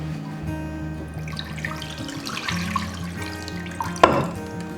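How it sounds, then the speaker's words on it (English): Water poured into a baking pan for a pumpkin flan, a gentle running splash and trickle under soft background music, ending with a brief louder splash near the end. "now I'm going to pour water inside the baking pan and we're going to fill it up halfway"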